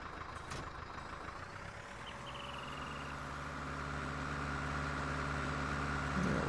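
A tractor engine idles in the video game Farming Simulator 19 at a forestry farm, a steady low rumbling drone that swells gradually louder toward the end.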